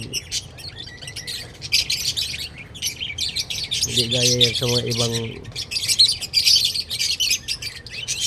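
Pet birds chirp and squawk continuously in a busy chorus while a person talks over them nearby.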